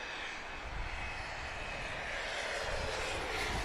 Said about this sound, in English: Looks like a Cessna jet.